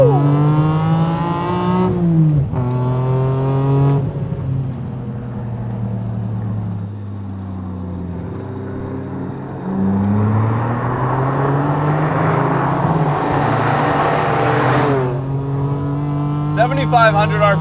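A naturally aspirated BMW Z4 M Coupe with the S54 straight-six climbs through the revs toward its 7,500 rpm redline, with a loud, rising engine note, upshifts and repeated pulls. Speech is also present.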